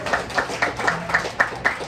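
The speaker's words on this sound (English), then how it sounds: "Can we get one more round of applause for Marla, please?" A light, sparse round of clapping from a small audience at a Democratic club monthly membership meeting, with evenly spaced claps for a couple of seconds.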